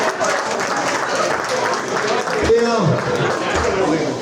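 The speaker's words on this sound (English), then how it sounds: "Give you all a round of applause." Audience applause fills a school hall of fame event, a steady dense wash of clapping from a crowd with a voice briefly cutting through in the middle.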